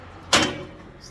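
A heavy door swings shut with a single loud thud, followed by a short fading rattle and a faint higher tone just after.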